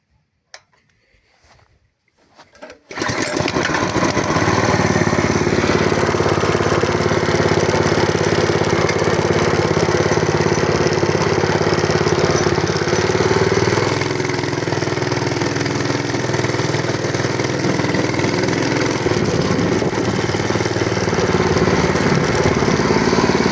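A homemade mini motorcycle engine starts after a few quiet clicks and fumbling sounds, then settles into a loud, steady, buzzing idle that runs close by without pause.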